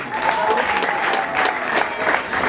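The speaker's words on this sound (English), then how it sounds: "Let's secondly appreciate by clapping our legal representative there." Audience clapping in appreciation of a school's legal representative at an Ecole Etesaam event, a steady dense patter of many hands filling the room, with faint voices mixed underneath.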